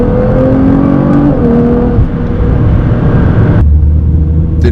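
A 680bhp Nissan GT-R R35 accelerates hard on a street, its engine droning loud and steady with rising pitch, then a sharp break as it shifts gear and the low rumble carries on.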